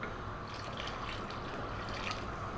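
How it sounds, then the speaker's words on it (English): Water being topped up into a soup pot already holding vegetable stock, a steady close pour with trickling and splashing, constant over a few seconds with no talk. "I'm going to have to top it up with a bit more water"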